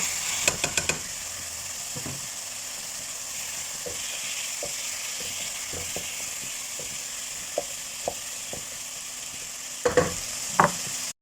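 Onion added to a hot pan sizzles steadily and loudly for a Filipino monggo with sotanghon dish, with occasional sharp clicks and taps of a utensil against the pan over the constant frying hiss.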